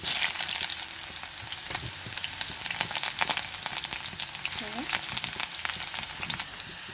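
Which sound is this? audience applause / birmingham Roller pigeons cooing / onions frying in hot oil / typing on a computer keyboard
onions frying in hot oil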